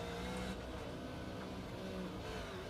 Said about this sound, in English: If you listen into the RPMs, he sounds like he's in about second gear